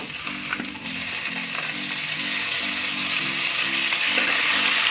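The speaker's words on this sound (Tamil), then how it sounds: "நம்ம 2 தக்காளி போட்டிருக்கோம், நச்சு போட்டிருக்கோம். நல்லா வதங்கட்டும்." Shallots, garlic and tomatoes saute in a pan for a Tamil fish curry, giving a steady close sizzle with a faint rhythmic hum underneath and no voices.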